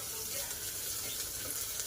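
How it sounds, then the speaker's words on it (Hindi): Onions frying in a pan in a home kitchen, a steady, quiet sizzle with no breaks, heard alone without any talking. "तो इधर मैंने प्याज फ्राई कर दी हैं,"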